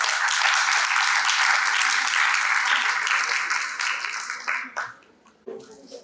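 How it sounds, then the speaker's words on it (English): An audience at a talk in Nagpur welcomes speakers with a loud, sustained burst of applause that holds steady for several seconds, then tapers off as scattered claps fade out. "Let's welcome them both with a big round of applause."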